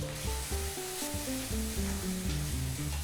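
Onions, ginger-garlic paste and tomatoes frying in a pan give a steady, loud sizzle throughout, with a layered backing of tonal music under it and no voices.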